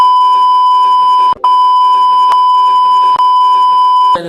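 A loud censor beep: one steady high electronic tone that holds for several seconds, broken by a brief gap and a few tiny clicks, over faint muffled background sound.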